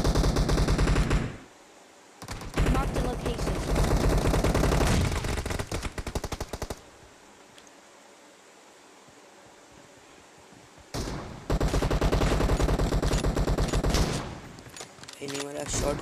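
Rapid gunfire bursts from a PUBG Mobile match, loud and dense, in two long volleys separated by a quieter stretch of faint background sound, with occasional single shots near the end.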